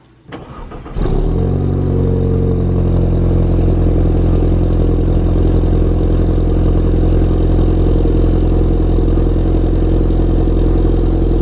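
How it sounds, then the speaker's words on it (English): A cold start of an Audi A4 fitted with a stage 2 CTS Turbo exhaust: a brief crank, then the engine catches with a loud flare and settles into a steady, deep, close idle. "there was a cold start"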